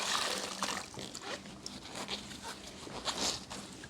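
Water trickles and patters in small irregular drips as a wet suit is gently squeezed by hand during washing, close and fairly quiet with no talk.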